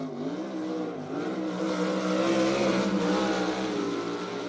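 A dirt track race car at BAPS Motor Speedway in York Haven, PA, droning steadily through a turn. The engine note rises and falls gently as the throttle is fed, loud and continuous without a break.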